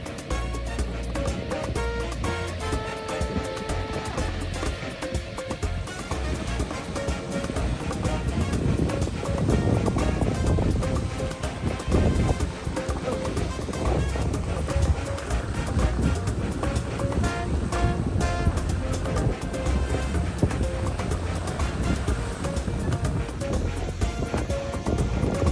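Surf at a Punta Cana beach resort in the Dominican Republic rolls in with steady, loud waves and some wind rumble, continuous throughout without talk.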